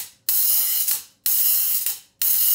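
A hi-hat swing pattern squeezed onto the eighth note before beats two and four gives three long, sizzling washes of cymbal, each one swelling and then decaying, played close and alone in a loping rhythm.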